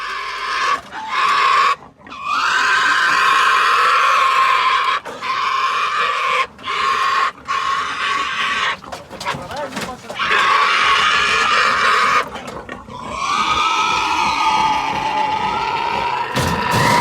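Iberian pigs squeal and scream loudly in repeated bursts during a health check, near and harsh with short gaps, with people talking in between.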